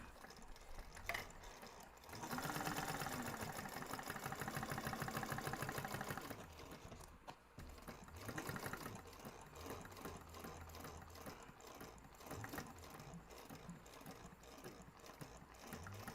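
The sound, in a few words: sewing machine stitching second row on crossbody bag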